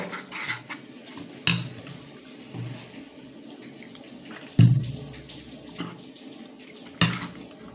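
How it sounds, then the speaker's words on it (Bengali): Water added little by little to a flour batter for a fig chop, with soft pouring and splashing and a few sharp clinks of a utensil against the bowl, close and without speech. "অল্প অল্প করে জল দিয়েই ব্যাটারটা রেডি করতে হবে"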